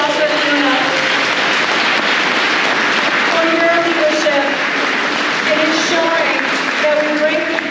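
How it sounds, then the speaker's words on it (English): Audience applause for Phiona at the Aurora Black History Month community event, a dense steady wash of clapping filling the room throughout, with some voices and cheers mixed in. "Please, guys, give an applause for Phiona."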